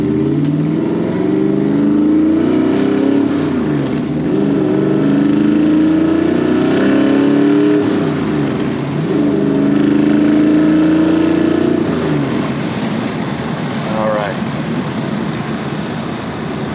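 A 1966 Ford Mustang restomod accelerates on the road, its engine droning loud and close with rising revs, a dip around a gear change and another climb, no voices present.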